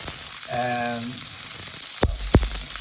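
Dry chili hitting hot oil in a pan for a fish curry after curry leaves, a steady loud sizzle and hiss throughout, with a couple of sharp clinks of a utensil near the end.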